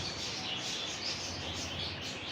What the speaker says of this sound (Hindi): ये देखें, बर्ड्स आए जा रहे हैं